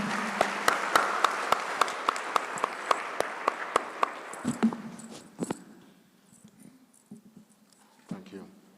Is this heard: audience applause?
yes